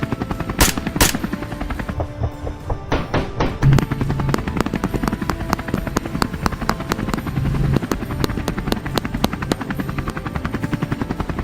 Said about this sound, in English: The helicopter continued to circle,